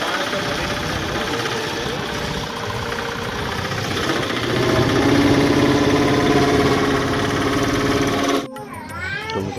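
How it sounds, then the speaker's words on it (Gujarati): A tractor engine runs steadily nearby as water is filled, giving a constant throbbing, rattling drone that grows louder and rougher midway. The clip ends with an abrupt cut to a different sound. "તો અહીંયા એક ટ્રેક્ટર છે ને આપણો સકડામાં પાણી ભરાય છે."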